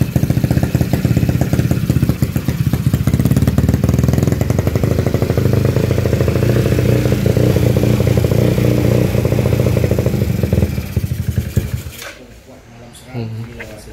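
A Yamaha Mio scooter engine runs on after a carburetor adjustment, a loud close rattling and clattering idle with a steady mechanical chatter for about twelve seconds before it cuts out, leaving brief quieter handling noise.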